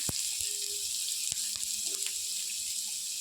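Grated carrot frying in ghee in a pan, a steady bright sizzle with occasional soft clicks of utensils, close and continuous without talk.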